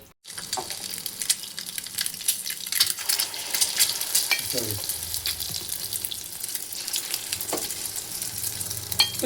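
Egg mixture fries in a pan, a steady close sizzle with scraping and stirring clatter throughout, and a few knocks of a utensil against the pan.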